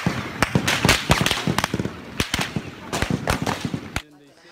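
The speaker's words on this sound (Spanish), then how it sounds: "Los disparos junto al aeropuerto, explosiones cerca del edificio del Estado Mayor" Sharp gunfire and blasts crack in rapid, irregular bursts during the coup attempt in Turkey, loud and dense, with voices mixed in beneath the shots.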